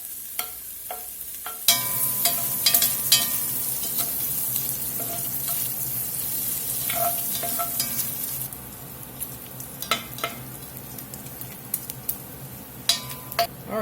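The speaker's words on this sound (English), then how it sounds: "Use that bacon fat to get this hamburger and this smoked sausage browned up." Hamburger and smoked sausage brown in bacon fat in a pot, making a continuous close sizzle broken by scattered metallic utensil clinks and scrapes, louder stirring bursts near the end; no one speaks.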